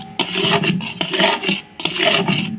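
Cooked khoya being scraped out of a cooking pan with a utensil, three bursts of close rasping scrapes separated by short pauses, alone without talk.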